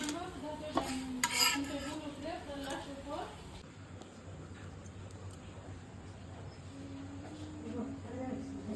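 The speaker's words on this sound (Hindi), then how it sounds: "इसको प्लेट में निकालेंगे।" Cooked bamboo shoot dish scooped from a pan onto a plate, with metal spoon scrapes and clinks against cookware early on, then quieter handling while a person talks.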